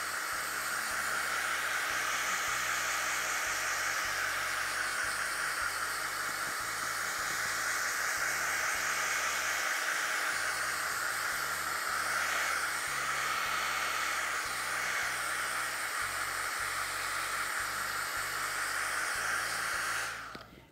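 A hair dryer blows on stencil paint on a wooden sign, a loud continuous airy whoosh with a low motor hum that runs steadily for the whole stretch and then cuts off at the end.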